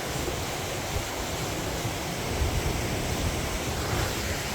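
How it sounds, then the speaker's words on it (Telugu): Heavy rain hisses over a rushing waterfall as a dense, even wash of noise that holds steady throughout without voices. "ఫుల్ వర్షం పడుతుంది, ఇంకెళ్ళిపోతున్నాము."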